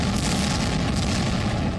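Explosion from a shell dropped by a drone onto an armored military vehicle, heard as a sustained loud, dense blast rumble with heavy low-frequency roar filling the whole moment, no voices.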